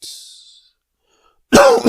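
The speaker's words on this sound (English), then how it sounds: "Excuse me for the coughing." A single sharp cough from a sick person bursts out near the end after a faint breathy hiss and a stretch of silence.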